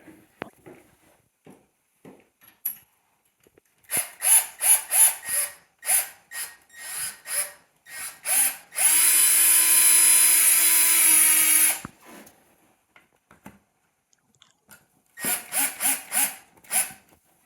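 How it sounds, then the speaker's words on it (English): Screws driven back into old wall plugs during a toilet repair with a new internal flush cone: bursts of whirring drill-driver runs, one long steady spell of driving, then more short pulses, close and alone. "Just screwing them back into the old raw plugs that were already in there."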